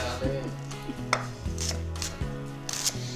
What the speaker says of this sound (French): Les échalotes, j'aime ça quand c'est haché quand même assez finement